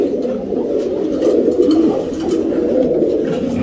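Pigeons coo in a steady, overlapping murmur, with several birds close by and continuous throaty calls throughout and no talk.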